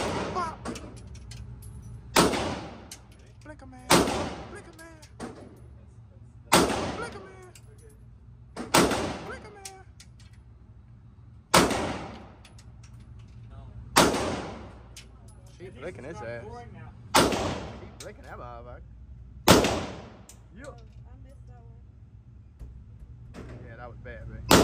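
Nine loud, sharp gunshots at a gun range, spaced a few seconds apart, each with a short ringing decay, while people talk in the gaps between shots.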